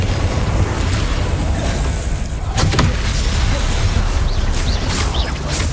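The Confringo blasting spell in the video game Hogwarts Legacy, cast during a fight with goblins, sends out a roaring, rumbling burst that swells into continuous loud noise with a sharper crack midway.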